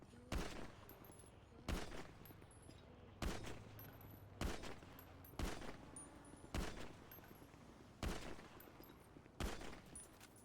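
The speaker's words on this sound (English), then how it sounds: "Who the fuck is shooting me?" Gunfire in a GTA V roleplay game, about eight sharp shots spaced roughly a second apart in a steady run, loud and close, with no talk over them.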